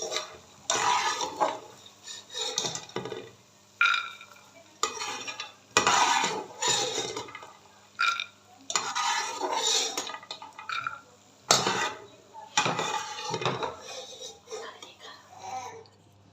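A spoon scraping roasted fox nuts (makhana) out of a pan, with repeated close clinks and scrapes in uneven bursts separated by short pauses, while someone talks between them.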